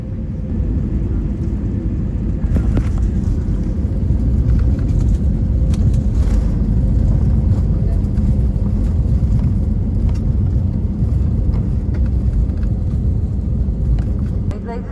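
Inside a Frontier Airbus A320neo landing on runway 27 right at Philadelphia, a steady, loud, low cabin roar runs throughout with faint scattered ticks and no distinct touchdown thud.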